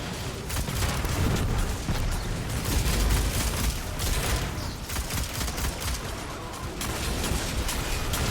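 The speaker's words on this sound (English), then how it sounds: "Cabal cluster missile, huh?" Cabal cluster missile explosions in the Destiny 2 video game, a dense loud barrage of overlapping blasts and crackling impacts that runs continuously, swelling and dipping without pause.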